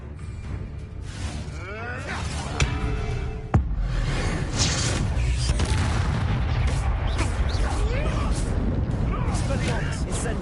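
Spell combat in Hogwarts Legacy, with the Incendio fire spell cast amid dense game audio: repeated booming bursts and whooshes, a sharp crack near the middle, continuous loud action throughout with voices talking over it.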